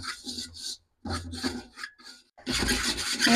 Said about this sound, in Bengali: হ্যাঁ আমি এইভাবে নাড়াচাড়া করে নিতে হবে নাড়া থামানো যাবে না